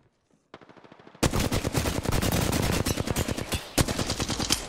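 Rapid automatic gunfire from an Apex Legends match, loud and nearly continuous bursts of shots after a quieter opening, with sharp louder cracks standing out near the end.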